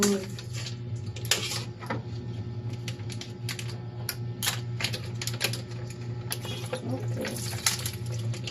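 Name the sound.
washing anchovies with vinegar and water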